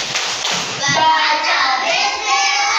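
Children chant together in a classroom while clapping in rhythm, a lively tepuk wudhu routine for learning ablution. Loud, close group voices sit over sharp, regular hand claps.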